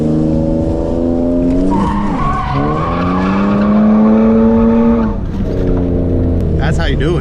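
A car drifting on a street using its stock handbrake, with loud, sustained tire squeal that rises and shifts in pitch over a revving engine, pausing briefly before squealing again.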